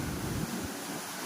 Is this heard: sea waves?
yes